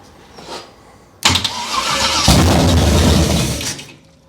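An abandoned 1968 Chevrolet Camaro being started for the first time with junk parts: a brief crank, then the engine catches with a loud, close roar and settles into a rough, uneven idle before cutting off.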